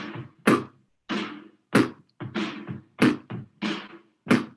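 Beatbox bass drum made with the lips, a voice imitating a kick drum: a series of about nine sharp, punchy percussive bursts with short silent gaps, near and loud, with no other sound.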